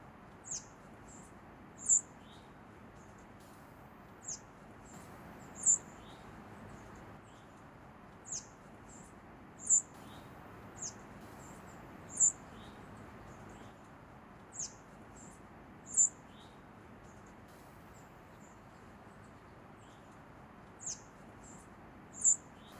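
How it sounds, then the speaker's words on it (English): A white-throated sparrow gives short, high chip notes at a rescue release outdoors, repeated every second or two at steady intervals, sharp and fairly near over a faint background hush with no talk. "There's a white-throated sparrow."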